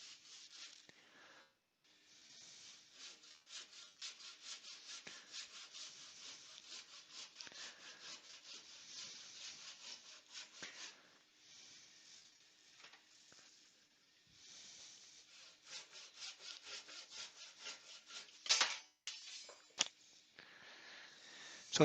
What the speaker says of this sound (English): I decided just to saw the rest off.